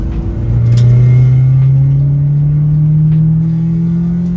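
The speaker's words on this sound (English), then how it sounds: "I'll turn around and then I'll hit some VTEC on the street for you guys" Honda Civic EF9 engine revving up into VTEC on a street, a loud, steadily rising drone that climbs in pitch for several seconds, close-up with no talking.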